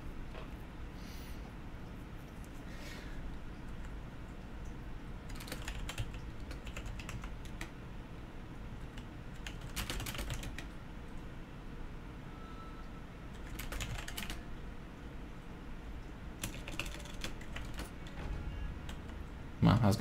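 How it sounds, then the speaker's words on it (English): Computer keyboard typing runs through a quiet background as soft clustered keystroke bursts, some denser than others, spread over twenty seconds alongside faint game audio, with no clear talk in the clip. "Well, I was gonna keep typing"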